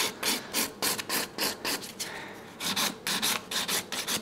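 A nail file rasps back and forth against a fingernail, shaping stiletto-style artificial nails, in quick, even strokes that are close, fairly quiet and steady in rhythm, with no talking.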